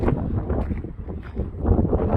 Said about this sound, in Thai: แต่ก็ลมพัดฟืดฟืด